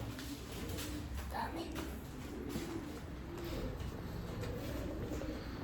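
Pigeons coo in low, soft, repeated calls on a rooftop among cages, against a steady background hum, with a hint of voices nearby.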